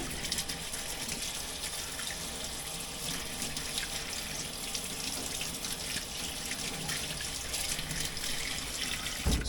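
Hot water running from a tap into a sink, a steady rushing hiss that continues without a break for about nine seconds, close and alone.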